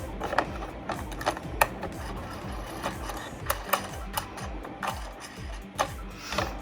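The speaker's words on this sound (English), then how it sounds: "Okay, now I'm going to take my toggle head and I'm going to start to tighten it." A toggle head tightened down onto a handmade melamine garden flower, giving a close run of quick ratcheting clicks and mechanical ticks in an irregular rhythm, with no voice over it.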